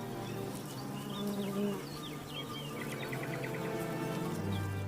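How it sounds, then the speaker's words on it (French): Honeybees buzzing at a hive entrance while drones are expelled, a faint, dense hum with darting wingbeats passing close, and a bird chirping softly in the background. "L'entrée de la ruche est le théâtre d'une scène cruelle qui préfigure l'arrivée de l'hiver, l'expulsion des faux bourdons."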